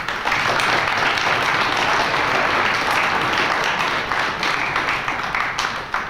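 Audience at a high school Hall of Fame induction ceremony breaking into sustained applause, a dense, even wash of many hands clapping that lasts throughout and is loud and close.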